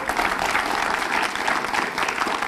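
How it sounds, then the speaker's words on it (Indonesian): Audience applause at a public gathering, a steady dense burst of many hands clapping that fills the whole stretch without pause, loud and close. "Tepuk tangan sekali lagi."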